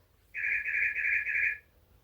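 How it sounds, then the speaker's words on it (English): Electronic bird clock chiming a single steady synthetic birdsong call, a bright whistled tone lasting about a second and a half, fairly clear against a quiet room. "Oh, my bird clock."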